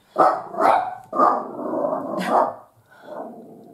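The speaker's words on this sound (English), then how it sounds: "Sorry, that's my dog." A dog barks several times in short bursts close by indoors, with a low growl between barks and a quieter final yip.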